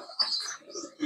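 Racing pigeons coo in a breeder's loft, with soft, brief murmuring calls and a few chirps overlapping in a quiet space over about a second. No one speaks.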